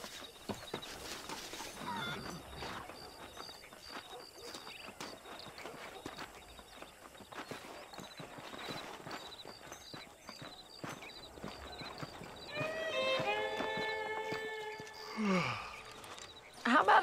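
Horse hooves clip-clop at a walking pace in the Red Dead Redemption video game, soft and steady beneath murmured speech, followed by a whinny and a louder burst near the end.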